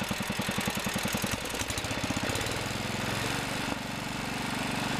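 A Kohler engine fitted with a Delco Remy voltage regulator runs steadily on its own, a close, even, rapid putter with a slight change in tone partway through.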